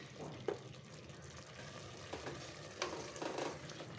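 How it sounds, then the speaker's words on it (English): Drumstick and potato curry is stirred in oil with garam masala, a soft spoon scraping and gentle sizzle continuing near and low, with a few sharper clicks of utensil against the pan. "Stir all this very well."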